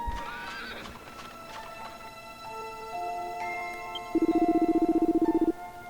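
A horse whinnies and clip-clops in Dragon Quest VIII on the 3DS, with a short neigh among game music, then a quick, even run of hoof clops near the end.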